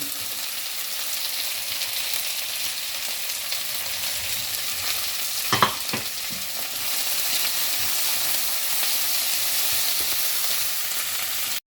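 Sliced onion, green chillies and grated coconut mix frying in a pan for beef varattiyathu, a steady dense sizzle throughout, with a brief stir or scrape near the middle.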